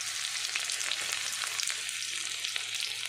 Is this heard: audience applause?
no